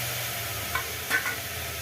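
Chopped brinjal sizzles gently in a frying pan while a spoon stirs it, with soft scraping strokes over a quiet, steady fry.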